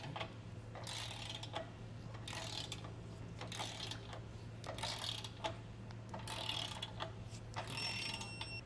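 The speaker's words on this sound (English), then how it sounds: "we're going to tighten and torque these down to the torque settings in the instruction manual" Serrated flange nuts being tightened and torqued on a Curt base plate fitted to a 2021 Jeep Wrangler, with repeated ratcheting bursts and clicks over a steady low hum and no talk.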